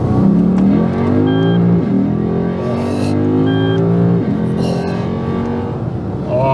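Lexus IS F accelerating hard up through first into second gear, a loud, close engine note climbing steadily in pitch, dipping briefly at the shift, then rising again.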